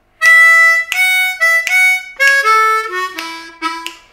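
Solo harmonica playing the turnaround from a tune, a short phrase of clear separate notes and a glissando stepping downward, close and bright with no talking.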